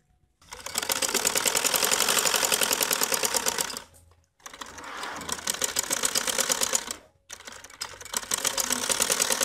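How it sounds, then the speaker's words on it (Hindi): A sewing machine stitches the outer seam of a linen kameez in three long, fast rhythmic runs, loud and close, separated by short pauses. "सबसे पहले हम इसकी बाहर की सिलाई लगाएंगे, इस तरह कपड़े को फोल्ड करके।"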